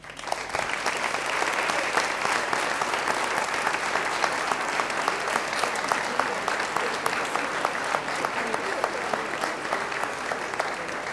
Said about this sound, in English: let us welcome each of the flags with an applause